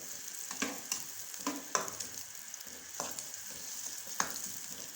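Onion frying lightly for a samosa filling, a soft constant sizzle broken by repeated scraping stirs at an irregular rhythm, close and fairly quiet.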